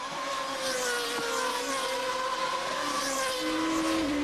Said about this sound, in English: That distinctive engine note from the 8-into-1 exhaust systems on these cars.